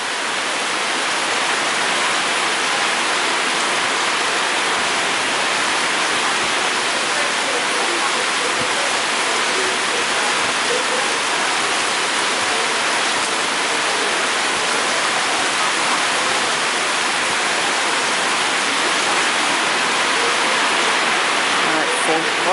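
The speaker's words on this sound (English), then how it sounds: "Boy, it's raining really loud." Heavy rain pours down steadily at an outdoor Appaloosa horse show, a loud, unbroken broadband roar that stays constant throughout with no clear voices on top.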